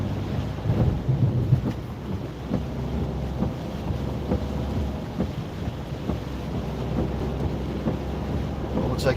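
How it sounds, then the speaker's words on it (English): Steady heavy rain drums on a car driving along a UK road at dusk, mixed with a low road and engine rumble and buffeting wind noise. The wash of sound is continuous and fairly loud throughout, with no talking. "Bear in mind, it's absolutely pissing down."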